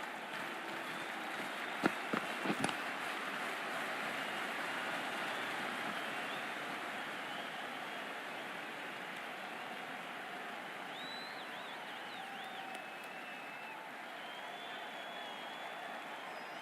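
Cricket stadium crowd in the video game Cricket 24 keeps up a steady, broad roar of massed voices for the whole stretch, with a few sharp claps or knocks early on and no clear speech.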